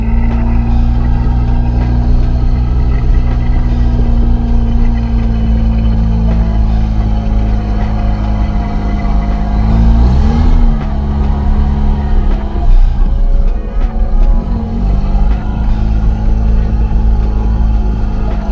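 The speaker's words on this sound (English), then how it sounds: "Alright, we are driving." Loud interior drone of a Mazda RX8 on the move, the engine holding a steady note before revving up and shifting midway, then pulling on again.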